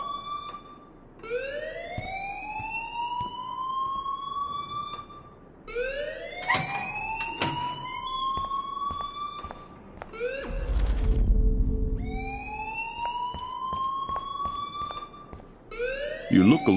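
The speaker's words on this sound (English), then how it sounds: "please turn off that alarm since that's your job" A repeating electronic alarm in Life is Strange, rising sweeps that climb again and again at a steady pace, loud and close, with a lower rumbling burst partway through and voices speaking over it.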